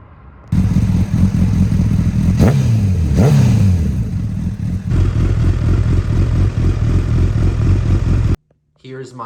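A motorcycle engine idles loudly nearby, then revs up twice in quick swells and settles back to a steady throbbing idle before cutting off abruptly near the end.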